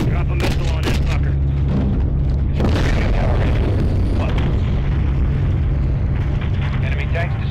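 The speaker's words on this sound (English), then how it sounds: "Drop a missile on that fucker." A missile strike in Modern Warfare III explodes on an enemy tank in a deep, loud boom that rolls on into a long rumbling roar, with voices speaking over the blast.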